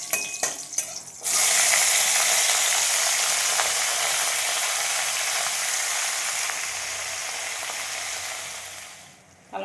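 Dried red chilies and bay leaves hit hot oil for tempering, with a few clattering knocks first, then a sudden loud hissing sizzle that holds steady and slowly fades toward the end.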